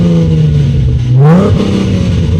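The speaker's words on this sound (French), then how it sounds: "Une Ford Mustang, un V6." A Ford Mustang with a V6 engine idling steadily and loud up close, then blipped once into a quick rising rev that swells and falls back to idle.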